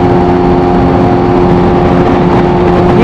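A Kawasaki H2 motorcycle engine on a test ride, a loud steady drone with strong tonal engine harmonics and wind rush, holding a constant level without pauses.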